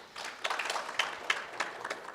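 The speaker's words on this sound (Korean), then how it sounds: "박수 한번 보내주십시오." Forum audience claps in a brief burst of applause, a moderately close patter of hands with a few sharper claps standing out over roughly two seconds.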